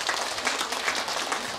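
Audience applause at the opening ceremony of a national Korean folk song competition final, a steady dense wash of clapping from a crowd heard continuously throughout.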